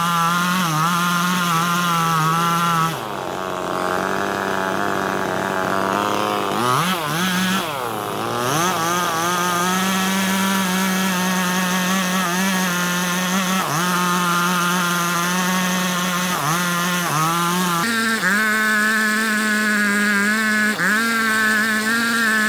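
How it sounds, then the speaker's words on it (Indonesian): A chainsaw roars steadily as it cuts through jackfruit wood, its engine pitch rising and dipping with the load, with brief revs and drops along the way. "lagi proses gergaji kayu nangka"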